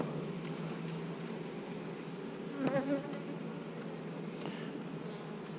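Honey bees buzz in a dense, steady swarm around an open hive during a frame inspection, with individual bees flying close past now and then over the constant hum.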